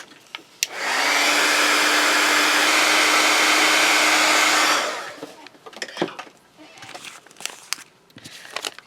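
A hair dryer drying a doily decorated with dollar store napkins: a loud, steady blowing whir starts abruptly, runs for about four seconds with a constant hum, then shuts off, leaving scattered handling clicks and rustles.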